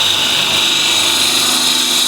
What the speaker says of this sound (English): first step is to true up the end grain here